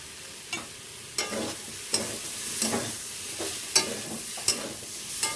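Spiced curry sizzles in a pan while a spoon stirs and scrapes it, making regular scraping strokes roughly every three-quarters of a second over a continuous close, loud frying hiss.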